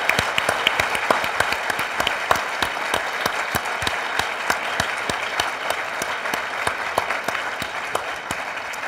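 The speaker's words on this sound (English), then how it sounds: "let's quickly give her a round of applause for her presentation" An audience at an education policy forum applauds a speaker after her presentation, a steady room-filling clapping with individual sharp claps standing out close by, continuing evenly throughout.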